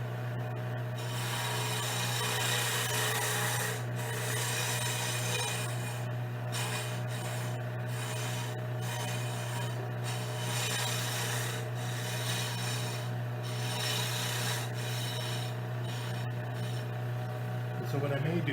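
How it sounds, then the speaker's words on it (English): Wood being rasped away by hand to fit a gun barrel, a continuous close scraping rub over a steady low hum, with faint taps and rhythmic strokes throughout. "I still need to take some more wood out to make it fit"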